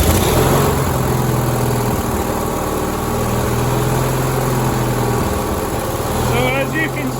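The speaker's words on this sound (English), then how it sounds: "let's crank this thing over here and see if it actually fires up" A small engine on a homemade powered wheelbarrow built from dumpster parts fires up and keeps running with a steady, close, loud drone and low rumble, while people talk over it.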